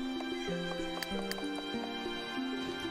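A horse in The Sims 3, heard as clip-clopping hooves and a whinny-like tone over a steady game background, close and moderately loud with no talking.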